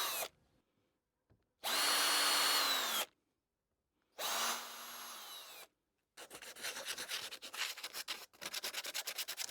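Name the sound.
drill pre-drilling holes in scrap wood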